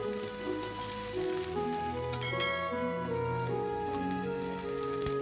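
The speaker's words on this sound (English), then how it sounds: "Now pour the remaining oil in the pan, add the onions and cook over medium heat" Onions and green peppers cooking in oil in a pan over medium heat, a soft steady sizzle with light crackles, heard under quiet background music and no speech.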